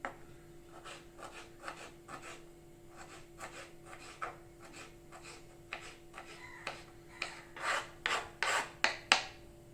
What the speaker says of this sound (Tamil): இப்போ பார்த்தீங்கன்னா இந்த மாதிரி சுரண்டி எடுத்துகிட்டு